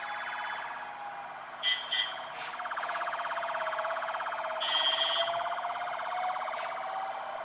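A wailing ambulance siren sweeps up and down continuously, fairly loud and steady, with a few brief louder bursts over traffic-like background noise.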